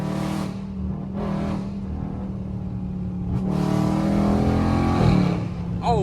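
A Dodge Charger Scat Pack with catless mid pipes revs hard in a few loud, raspy bursts, then climbs into a longer sustained roar with crackles, close up.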